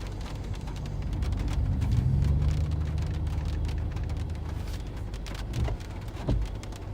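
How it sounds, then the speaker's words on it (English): Heavy rain and hail from a downburst hammer down in a dense, steady roar during a storm chase on the Kansas, Oklahoma and North Texas plains, with a low rumble rising underneath and no voices. "It's pretty intense hail in there."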